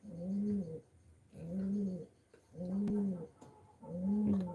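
Red checker racing pigeons give four evenly spaced, rolling coos, each call close and clear with brief quiet gaps between them.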